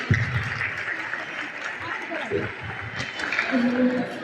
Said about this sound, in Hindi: उनके लिए तालियां, करतल ध्वनि